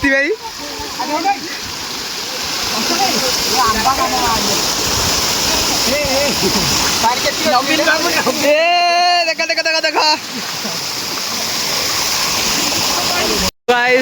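A waterfall at a village outing with friends roars steadily and loudly throughout, a constant rush of falling water with voices calling and chattering over it.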